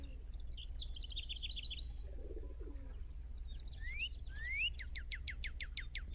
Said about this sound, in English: Beautiful birds chirping.